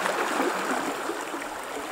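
Rain-swollen Razdolnaya river flowing high near Pokrovka, a continuous even wash of water heard up close and alone.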